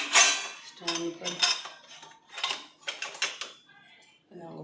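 Metal dishes and utensils clink and clatter as they are set one after another onto a drying stand in a village home, close and bright, in irregular bursts with a voice speaking faintly now and then.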